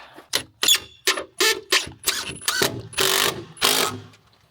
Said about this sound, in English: Screw it into the bottom side of your pond.